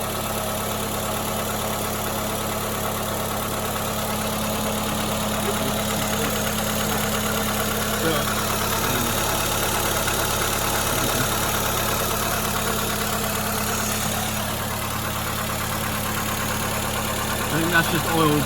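A Renault Safrane engine idles steadily after sitting unused for 12 years, a continuous mid-low rumble with a faint knocking texture that stays fairly loud and even throughout.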